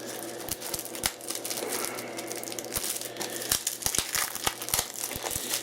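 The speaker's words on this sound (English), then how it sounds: "So, first we gotta get the plastic off." Protective plastic wrap is peeled and crinkled off a Blu-ray case, a continuous close, dry crackle with scattered sharp snaps and tears.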